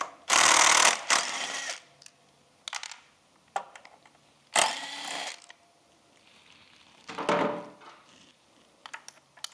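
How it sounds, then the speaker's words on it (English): Two T30 screws being backed out of the rear of a Triumph Thruxton RS: several bursts of close, buzzing power-driver whirring separated by quiet gaps, with a few small clicks and clatters between. "Then we want to take these two screws out. It's a T30."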